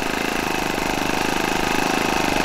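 A Flair Magnatilla RC plane's small engine runs close and loud at a steady, rapid pulsing buzz that does not let up, with no talking.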